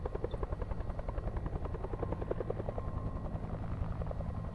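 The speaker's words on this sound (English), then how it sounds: "Sounds like a chopper." A helicopter flies nearby, its rotor producing a loud, steady rhythmic chop throughout with an engine drone underneath, no voices present.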